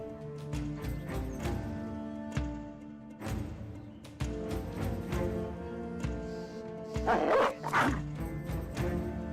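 Dogs attacking in the turn-based video game Battle Brothers, a run of short barks and yips over steady game music, with a louder cluster of snarling bursts near the end.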